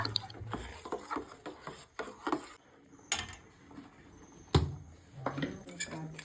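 A spoon stirs semiya payasam with a banana mixture in a pot, making irregular scraping and light clinking knocks against the metal, close and moderately loud.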